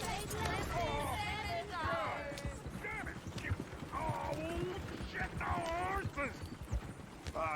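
Steady clip-clop of horse hooves pulling a coach in Red Dead Redemption 2, rhythmic and continuous, with voices chattering over the hoofbeats throughout.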